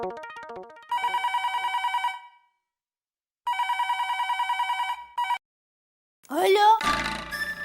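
A landline telephone ringing at home in a Hindi sitcom: two long electronic ring bursts separated by a gap, then a brief third chirp, followed by a short loud vocal outburst at the end.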